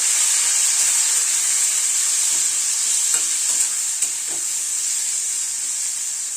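Vegetables sizzle steadily in a pan of mustard oil, a constant bright hiss broken by a few soft scrapes and taps of stirring, with no one speaking.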